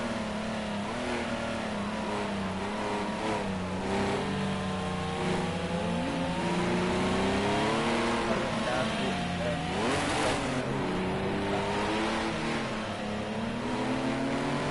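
Race cars from Project Cars 2, including an Audi Quattro, roar and rev continuously with rising and falling engine pitch as they accelerate and shift, loud and close, under steady commentary.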